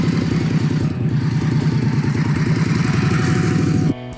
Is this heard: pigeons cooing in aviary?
no